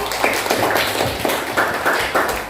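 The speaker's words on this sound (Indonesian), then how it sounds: "tepuk tangan untuk Putri." Students in an Islamic religious education classroom clap together in a short burst of applause. The clapping is steady, dense and moderately loud, filling the whole moment with no voices over it.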